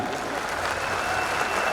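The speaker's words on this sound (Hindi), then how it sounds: "तालियां बड़ी बजनी चाहिए आपकी" An audience at a Hindi comedy poetry gathering claps in a dense, sustained burst of applause, loud and continuous with faint crowd murmur underneath.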